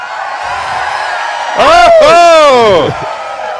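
A group of people erupts in a loud, swelling whoop and cheer, many voices rising and falling together for about a second and a half before fading.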